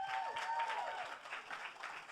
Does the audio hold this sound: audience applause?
yes